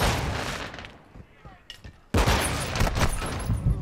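Submachine gun fire in Call of Duty: Modern Warfare, dense rapid bursts of shots that thin out, then a loud sustained volley resumes after a brief lull, close and harsh.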